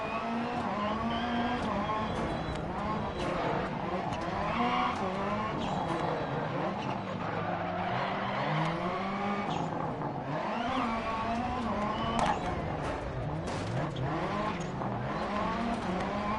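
A race car in Project Cars corners hard, its engine revving up and down in wavering pitch with tire squeal layered beneath, a steady, continuous game soundtrack at moderate volume.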